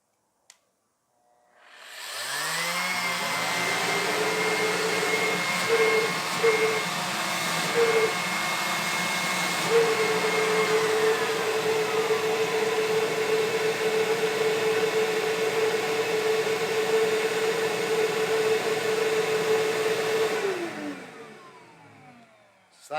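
A Ridgid shop vac fitted with a Dustopper cyclone separator on a dust collection cart spins up, holds a loud, steady whining roar with a drifting pitch for about twenty seconds, then winds down.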